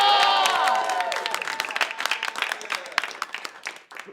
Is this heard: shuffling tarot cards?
no